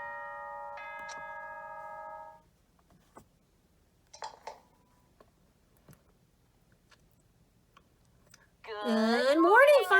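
A Danganronpa announcement chime rings out alone as a clear four-note ding-dong, followed by a few quiet clicks and a short voice before another loud tonal burst at the end.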